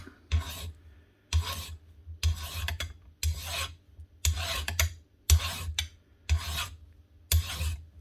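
A metal file rasps across a flat edge during the repair of a Virutex FC116C self-feeding door morticer: eight steady, evenly spaced strokes, each a close, gritty scrape separated by brief pauses, with no speech.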